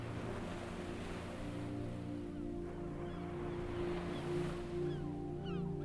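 Adriatic sea waves lapping gently against ancient stones on the Croatian coast, a soft continuous wash of water under a low steady hum, with a few faint bird-like chirps near the end.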